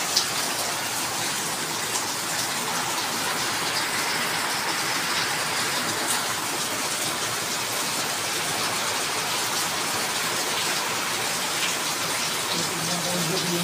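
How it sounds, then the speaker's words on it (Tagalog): Heavy rain pours steadily in a constant broadband hiss, close and loud for the whole stretch, with no voices standing out over the downpour. "Lakas ng ulan dito sa amin."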